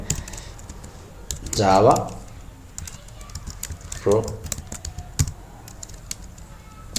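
A computer keyboard clatters with steady, close keystrokes while someone writes a simple Java program. A voice talks over the typing at moderate loudness.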